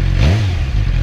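Motorcycle engine on a new bike revving through its stock exhaust, a loud, close, sustained throaty drone with a brief dip in the middle, no talking.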